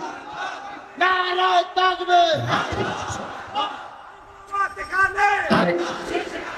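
A large crowd at an Islamic sermon shouts the takbir in unison, two loud bellowed call-and-response rounds with a speaker's amplified voice between them in a reverberant open setting.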